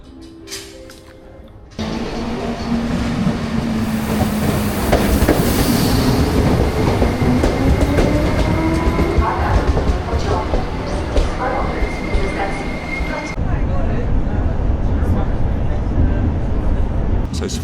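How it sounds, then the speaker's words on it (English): A passenger train in Poland heads toward the Baltic resort city of Swinoujscie. It rumbles steadily with clattering wheels and occasional squealing tones, a loud continuous ride noise, and a voice speaks over it. "I'm jumping on the train and I'm heading up to the resort city of Swinoujscie."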